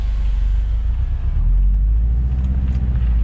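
A car fitted with a new Cobb SF big intake revs in a single pull, with a loud, close, steady low engine rumble and induction roar and no talking.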